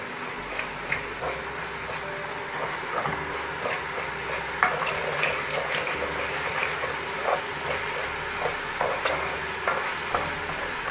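Rice for stuffing duck with liver and gizzards is stirred and browned in a hot pan, sizzling steadily for the whole stretch with repeated scraping strokes of the spoon at close range.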